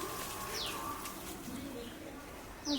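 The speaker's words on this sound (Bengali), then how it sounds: "ওই যে আমার পাখি চলে আসছে" A pet bird gives soft pigeon-like coos and a few short calls, faint and somewhat distant against quiet household background noise.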